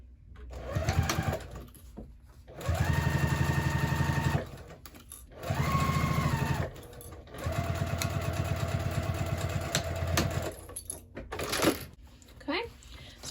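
A sewing machine stitches a crossbody bag seam in three separate runs of fast, even whirring, each a few seconds long, separated by quieter pauses with faint handling noises and some voice between runs.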